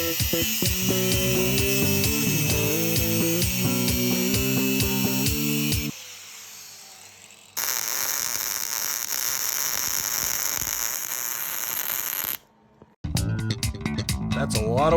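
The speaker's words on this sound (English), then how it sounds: "A little more grinding, a little more MIG welder, the structure will be ready to fit back onto the chassis." Metalwork on the targa bar structure of a Porsche 911 cabriolet being restored, with grinding and MIG welding: loud, close bursts of harsh, steady noise alternate with tonal mechanical passages, broken by short abrupt cuts and a brief pause.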